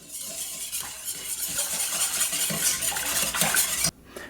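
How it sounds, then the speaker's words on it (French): A Malabar chewing-gum ice cream mixture is stirred briskly in a bowl, a steady swishing and clinking churn lasting several seconds before stopping abruptly, close and fairly loud, with no talk. "Ensuite, on mélange comme il faut."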